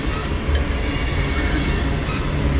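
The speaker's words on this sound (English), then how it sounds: "It's probably the last train for the day." A CSX manifest freight train rolls past close by, a steady loud rumble of wagons with faint clickety-clack and a touch of wheel squeal running throughout, no voices.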